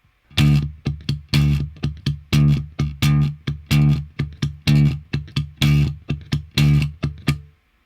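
Palm-muted guitar riff with chugging notes in repeated groupings, the first of each group accented louder, distorted and rhythmic.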